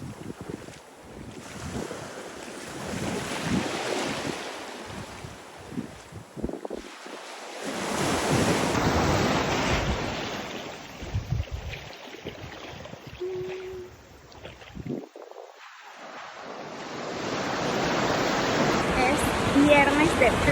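Sea waves at Playa Medina on the Venezuelan Caribbean coast, surging and washing in uneven swells with wind buffeting the microphone, moderately loud and close, with a brief lull in the middle.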